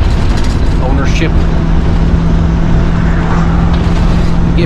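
Steady road rumble from an RV driving on the road, a continuous low engine and tire drone with a constant hum, loud and close throughout, with faint talk beneath.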